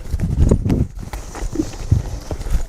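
Cutting horse hooves thud and shuffle on arena ground as the horse works a cow, an irregular run of near, loud footfalls.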